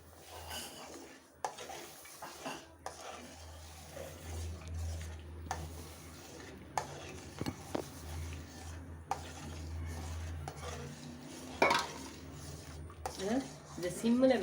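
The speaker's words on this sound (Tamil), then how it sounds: "இப்போது நல்லா ரவையை நம்ம கொட்டிக்கிட்டு கிண்டிக்கிட்டே வரணும்" Semolina scraped and stirred in a pan while making rava kesari, giving soft intermittent clinks and scraping of a utensil against the metal pan, with a voice talking over the cooking.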